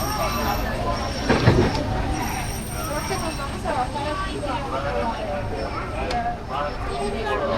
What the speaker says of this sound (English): This train is ready to depart Tomorrowland and we're headed back to Main Street, USA.